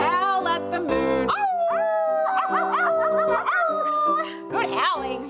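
Children sing-song howling like a dog in a playgroup session, a chorus of rising and falling voiced howls filling the clip, loud and close with overlapping young voices; voices imitate the sound.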